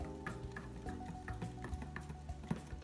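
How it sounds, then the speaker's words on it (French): A whisk stirs melted coconut oil into a deodorant cream in a bowl, soft scraping and light ticking strokes repeating steadily, close and quiet. "Et on va utiliser le fouet pour mélanger"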